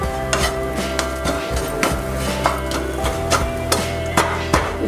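Ginger, asafoetida, kasuri methi and black salt sauté in a pan on a stove, with a steady low sizzle under repeated sharp scrapes and clinks of a spoon stirring against the pan, close and fairly loud.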